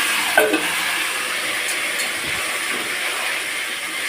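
Goat meat hits reddish fried onions in a hot pan and sets off a loud, steady sizzle that hisses without a break and with no talking.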